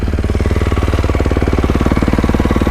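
A 2024 Beta 450RX dirt bike engine idling close up, a loud, steady, rapid thumping pulse that stays even throughout, with no talk.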